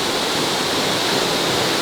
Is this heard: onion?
no